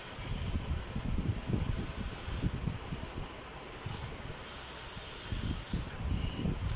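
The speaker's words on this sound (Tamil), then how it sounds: "இப்போ அவர் ஏர் ஃபில் பண்ணுறாரு." Air being pumped into an air pillow, a steady breathy hiss of rushing air with soft pulses and brief lulls, close and fairly quiet.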